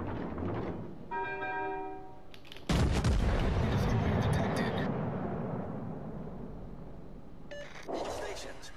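Naval guns in World of Warships Legends fire a concentrated salvo: a heavy, loud boom with a long rumbling roll-off, framed by game interface tones and a voice talking over it.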